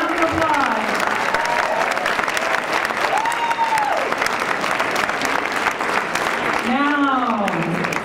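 Audience applause at an evening banquet honoring political candidates, steady dense clapping filling the room while a voice talks over it.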